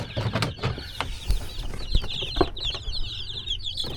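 Ameraucana chickens on a farm make scattered, fairly close clucks and short calls in the rain, with a wavering high chirping running through the second half and soft rustling underneath.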